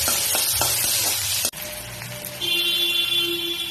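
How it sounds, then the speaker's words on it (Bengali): Chopped onion fries in hot oil for a fish curry, with a loud steady sizzle, a sharp clatter midway and a brief stirring scrape before the sizzle settles into a bright, even hiss. "কুচনো পেঁয়াজ দিয়ে একটু ভাজা ভাজা করে নিচ্ছি।"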